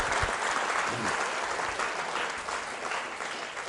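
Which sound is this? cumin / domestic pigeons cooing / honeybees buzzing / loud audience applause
loud audience applause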